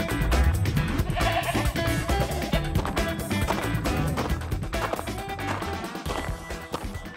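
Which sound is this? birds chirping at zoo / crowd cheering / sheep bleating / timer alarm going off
sheep bleating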